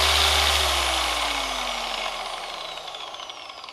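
Rotary polisher spinning a pad on a worn car headlight, a loud whirring drone that winds down steadily in pitch and volume as the pad slows.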